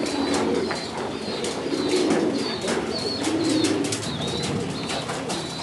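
A Tomprang high-flying racing pigeon coos in repeated soft, throaty phrases up close, joined by bursts of wing flapping, other birds faintly around, no talking.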